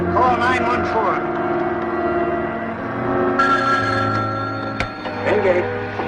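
A telephone bell rings steadily in a 1979 film, a sustained tonal ringing that holds throughout and sits over a low hum.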